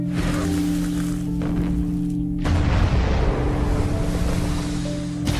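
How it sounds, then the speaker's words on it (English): A massive, sustained nuclear bomb explosion from a film roars with deep rumbling and a broad noisy blast that fills the whole stretch, loud and continuous. "The explosion is as much as you'd expect in terms of a nuclear blast"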